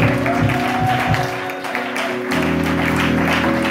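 A church congregation at a French-language seminar service applauds and acclaims the Lord. Steady, dense applause fills the room, mixed with cheering voices and a sustained tonal drone, continuous throughout.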